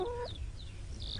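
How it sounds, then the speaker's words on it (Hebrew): Hens clucking in a Hebrew children's cartoon, a short burst of a few soft clucks and high chirps over a low background hum, with no talking. "אבל התרנגולות של גברת תומפסון היו ערות לחלוטין"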